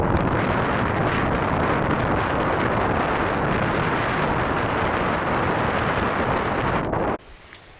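Strong wind buffets the microphone in an Alaska valley during a moose hunt, a loud continuous roar for about seven seconds that drops abruptly to quiet at the end.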